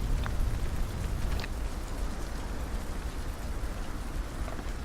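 Rain falls steadily in the video game Ylands as a dense, even hiss with faint drips scattered through it, constant from start to finish with no voices.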